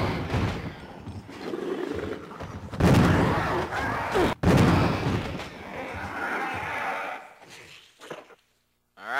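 Shotgun blasts strike a hunter creature in Resident Evil REmake: several loud, booming shots spaced a couple of seconds apart, mixed with game creature noise and impacts.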